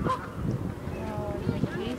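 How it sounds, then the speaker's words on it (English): Canada geese honk in short bursts nearby, several calls overlapping amid background murmur and outdoor noise. "Thank you, Canadian geese."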